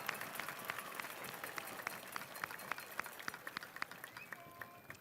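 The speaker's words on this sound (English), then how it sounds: "give one last amazing, huge, loud round of applause for the class of 2026" A graduation audience for the class of 2026 claps together in a steady, faint, distant wash of applause, with scattered sharper claps standing out.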